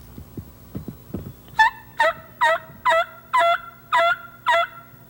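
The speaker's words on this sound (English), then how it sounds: "The idea is to get the tom to gobble back and find out exactly where he is." A wild turkey tom gobbles back after a few soft hen-like yelps, answering with about seven loud, evenly spaced rattling gobbles in a steady rhythm, clear and fairly close against a low outdoor hum.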